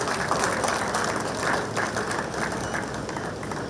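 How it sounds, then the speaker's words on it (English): A banquet audience applauds at a governor's anniversary celebration, a dense, continuous wash of clapping that holds steady throughout without voices over it. "Shall we please once again give him a round of applause?"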